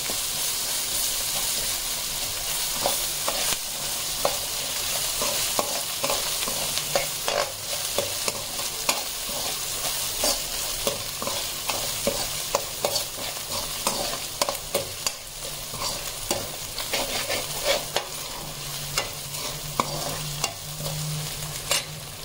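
Ginger garlic paste and onions sizzle steadily in a pan, with a continuous loud fry broken by repeated scraping stirs throughout.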